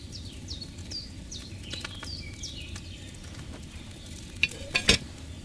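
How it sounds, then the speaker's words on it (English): Wine bubbling in a cauldron over a fire in Kingdom Come: Deliverance II, a steady soft sizzling simmer with birds chirping around it and a few sharp clinks near the end. "Hear that bubbling? It's boiling."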